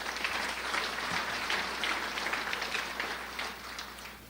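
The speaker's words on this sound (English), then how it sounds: "Give them a round of applause as well." Applause from the audience at a city's State of the City address, a steady even patter of many hands heard quietly and somewhat distant, fading slightly at the end.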